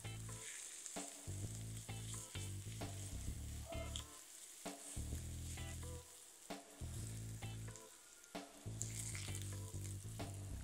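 Grated garlic and ginger frying in a pan for a Thai chicken soup, a steady close sizzle broken by repeated clattering stirs and scrapes, with no talking.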